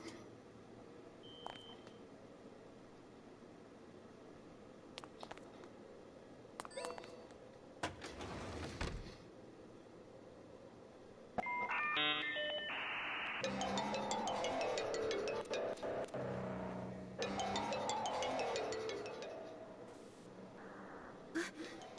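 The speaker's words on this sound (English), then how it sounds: "Even the ringtone is creeping me out." An eerie phone ringtone from the Monark video game, heard as repeated electronic beeping tones that grow louder midway over low background game ambience.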